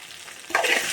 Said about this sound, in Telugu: సిమ్లో పెట్టి అలా వేయించుకోవాలి